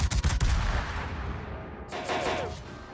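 A warship in the World of Warships video game fires a salvo of armor-piercing rounds: a burst of heavy cannon booms, a fading rumble, then another sharp volley with metallic ringing.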